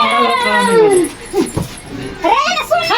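A dog whimpers and yips at close range, with drawn-out whining tones and short sharp cries, while people talk over it.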